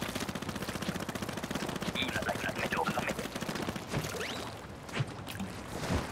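Rapid repeated firing of an ink weapon in the video game Splatoon 3, a steady machine-gun-like stream of shots running throughout, loud and close, with game effects layered over it.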